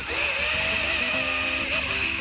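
A power drill bores into hard red wood while a homemade speargun is being built, giving a steady, loud high-pitched whine with slight pitch wobbles as the bit bites, heard alone and close.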